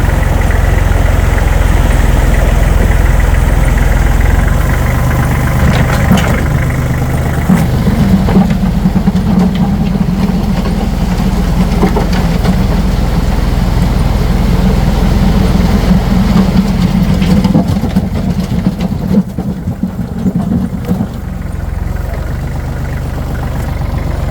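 Tractor with a front bucket running over a soft driveway, its engine a loud steady low rumble that holds close throughout with slight shifts in load, no talking.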